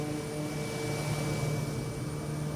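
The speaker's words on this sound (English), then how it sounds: "We got that Canadian water tanker." A Bombardier water tanker aircraft flies by in the MSFS 2024 flight simulator, a steady broadband engine roar with a faint tonal whine, even and continuous throughout.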